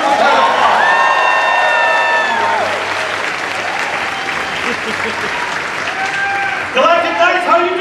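Loud applause with cheering and whoops from a crowd at a Star Wars Galactic Nights panel in a park, welcoming Warwick Davis; sustained clapping throughout with scattered shouts over it, swelling again near the end.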